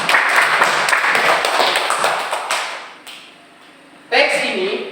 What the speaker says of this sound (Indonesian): Ya, tepuk tangan untuk Fulan.